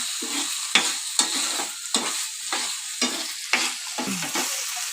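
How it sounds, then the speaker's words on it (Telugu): Steady sizzle of spices frying in a pan, broken by repeated scraping stirs of a spoon at a regular pace. "బాగా వేయించుకున్నామండి"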